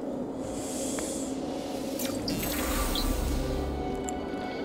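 A continuous buzzing hiss in the No Man's Sky video game, steady and fairly loud throughout, with a few brief higher chirps and a low rumble swelling midway.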